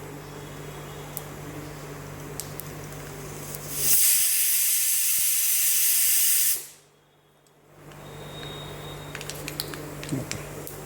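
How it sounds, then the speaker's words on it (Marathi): Mustard and cumin seeds splutter and crackle in hot oil for tempering, a loud, dense hiss bursting up for a few seconds before cutting off abruptly, with faint kitchen clatter around it and no talking. "आता मोहरी चांगली तडतडली की जिरे टाकायचे, जिरे चांगले तडतडले की त्याच्यामध्ये कांदा टाकायचा"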